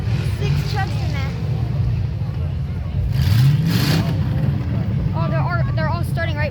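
Trucks at a demolition derby in Norfolk rev and accelerate at mid distance, with engines surging and roaring beneath excited crowd chatter and nearby talking.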